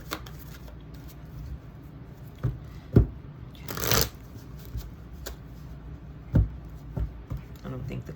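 A deck of cards is shuffled by hand at close range: soft riffling and sliding, broken by several sharp slaps and one longer riffle burst.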